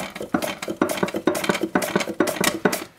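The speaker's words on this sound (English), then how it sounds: "I'm gonna make some slices of regular russet potato" Russet potatoes are sliced on a Ronco Chip-Tastic slicer in a quick rhythmic series of close crisp cuts and clacks, about a dozen strokes in three seconds.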